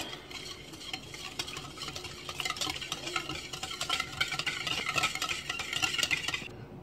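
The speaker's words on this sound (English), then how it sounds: "And then we're going to go ahead and mix it all up." Coleslaw being mixed in a bowl, a continuous wet scraping and stirring that rises a little in loudness and then cuts off abruptly, with no talking.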